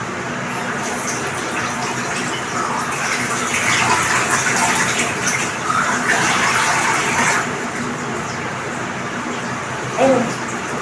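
Tap water runs steadily into a bathroom basin for face washing, a close, continuous gush that swells slightly in the middle and ends with a brief splash.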